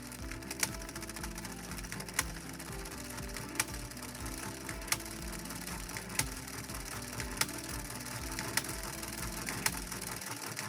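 A Mini Addi Express knitting machine cranked steadily, giving a continuous close ratcheting and gear clatter with regular sharp clicks about every second and a half, and no talking.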